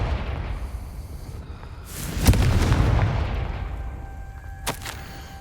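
A Confringo explosion spell cast in the video game Hogwarts Legacy on PS5: a loud booming blast with a sharp crack and rumbling tail, then a second brief burst near the end, over a low game ambience.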